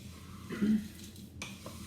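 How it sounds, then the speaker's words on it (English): Oats and nuts are gently stirred together in a bowl, giving a brief, soft scraping swish followed by a faint clink, close and quiet. "now I'm just going to mix that ever so gently to combine the oats with the nuts"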